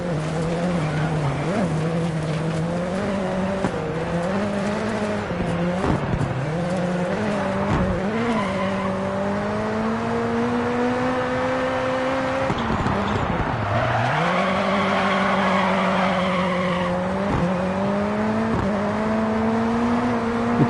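Two Hoonigan RSRX rallycross cars race in DiRT 4, their engines droning loud and steady, with pitch climbing and dropping through gear changes, plus tire squeal and skids in the corners, all continuous with no talking.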